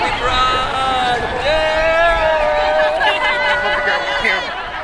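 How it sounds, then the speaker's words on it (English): Crowd at the Long Beach Pride parade, a loud, close mix of excited voices, calls and whoops over general chatter, with prominent individual voices. "crowd is huge this year"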